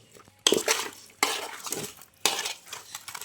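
A spoon stirs masala fish fry in a metal pan, three sharp scraping bursts with clinks, each fading before the next, close and without talk.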